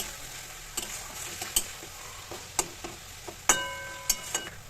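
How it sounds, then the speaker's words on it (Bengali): Spice paste for a rohu fish curry fries quietly in a pan while a spoon stirs it, giving a soft steady sizzle with a handful of sharp clinks and scrapes spaced irregularly, close and fairly faint, no voices. "এবার ভালো করে আমি এই মশলার সঙ্গে সব কিছু কষিয়ে নিচ্ছি।"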